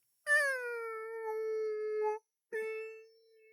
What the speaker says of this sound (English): Here we are talking about whales calling to each other across the sea.